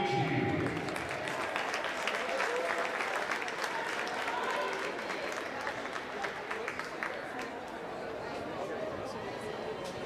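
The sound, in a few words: applause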